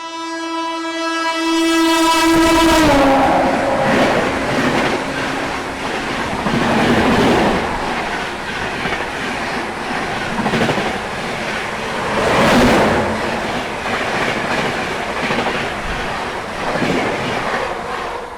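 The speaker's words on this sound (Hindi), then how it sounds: "Train number 20941 Mumbai Ghazipur city superfast express." Mumbai–Ghazipur City Superfast Express (train 20941) rushing past, opening with a loud two-tone horn blast that drops in pitch, then a sustained roar of coaches and clattering wheels close by, with surges as cars go past.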